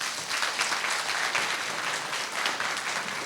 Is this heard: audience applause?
yes